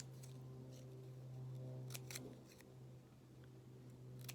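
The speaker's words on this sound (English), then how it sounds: "And then you cut that triangle out." Scissors snip a small triangle out of paper for a Passover craft, giving a few soft, brief cuts over a steady low hum in a quiet room.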